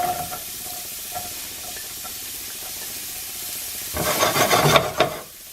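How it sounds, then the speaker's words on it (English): A whole chopped onion goes into a hot pan with oil, and a loud, bright sizzle bursts out near the end after a quieter stretch of faint kitchen noise. "we're going to take one whole onion chopped and put it into the pan"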